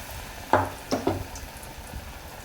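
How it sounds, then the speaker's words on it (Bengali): Batter-dipped pumpkin slices dropped one at a time into hot oil, giving a few short bursts of sizzling at close range over a low, steady background hiss. "এইভাবে ডুবিয়ে নিয়ে এইভাবে তেলের মধ্যে ছেড়ে দিলাম"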